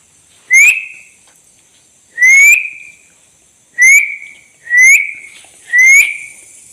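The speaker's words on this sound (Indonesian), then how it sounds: "saya juga akan mencoba bersiul" A person whistles inside an abandoned house in a forest, five short rising whistles, close and loud, each separated by a second or so of near silence.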